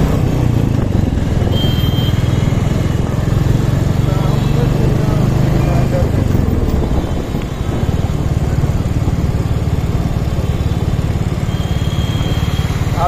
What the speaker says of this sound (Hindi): स्टार्ट कर दिया हमने बुलेट को